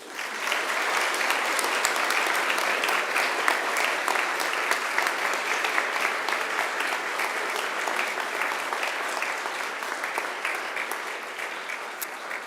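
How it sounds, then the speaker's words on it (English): Graduates at a university graduation ceremony giving their families a long round of applause, dense, loud, sustained clapping from a large crowd that holds steady throughout with no talking over it. "now it's time to give them a mighty round of applause"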